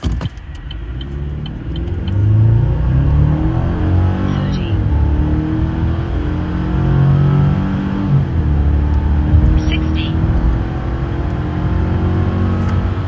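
A 2025 Chevy Silverado with the 2.7L turbo four-cylinder and 8-speed transmission accelerates hard, its engine drone loud and steady as it climbs through the gears for about thirteen seconds, heard from inside the cabin.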